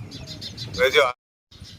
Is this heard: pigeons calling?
yes